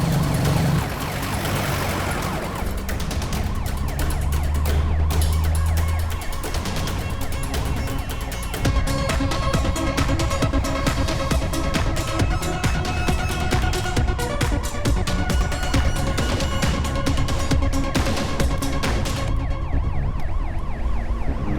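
An ambulance siren wails loud and close, sweeping up and down in a continuous cycle for around twenty seconds beneath a dense roar of traffic, with no voices.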